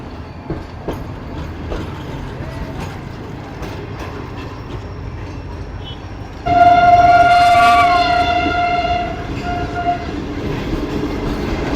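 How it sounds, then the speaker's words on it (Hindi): A train horn blares loud and sustained as the train approaches Tando Jam railway station on a Thar Desert route, its steady tone rising over the rumble of rolling wagons before fading back to track noise. "तो ये टंडो जाम रेलवे स्टेशन पर अप्रोच बना रही है ट्रेन।"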